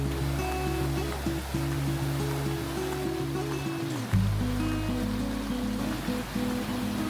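Steady roaring rush of a waterfall in Mindo, Ecuador, loud and continuous with a deep low rumble, briefly dipping before surging back.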